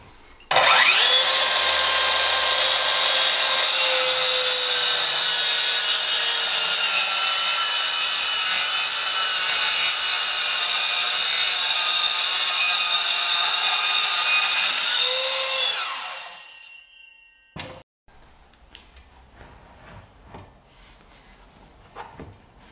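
A Metabo KT 18 LTX 66 BL cordless plunge saw cuts through wood in one steady, loud, high-pitched whine lasting about fifteen seconds. It then spins down and leaves faint clicks and handling noise.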